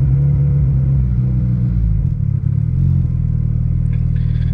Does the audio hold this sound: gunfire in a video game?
no